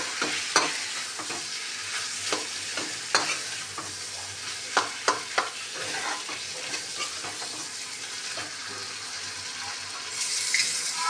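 Fish roe stirred and fried in a pan with fish oil, a steady broadband sizzle with a spatula clinking and scraping against the pan at irregular moments, close and fairly loud, no talking.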